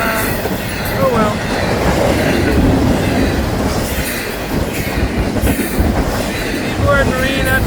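FEC freight train rolling past, a loud continuous rumble with wheel clatter and occasional squeals, close and sustained the whole time.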